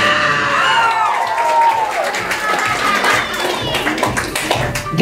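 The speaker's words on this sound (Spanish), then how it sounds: "¡Palmas y gritos!" Guests at a child's first birthday party clap and shout together, a loud, dense burst of applause mixed with excited cries and children's voices that holds steady for several seconds.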